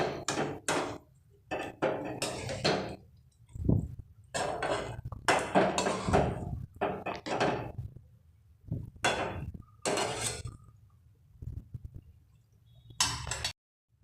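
Mushrooms stirred into masala in a pan, heard as irregular clanks and scrapes of a spoon against the pan in short bursts separated by quiet gaps, close and fairly loud.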